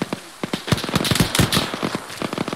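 Video game gunfire popping in a quick irregular run of sharp cracks, about a dozen close shots over a couple of seconds, loud and crackly, with no talking over it.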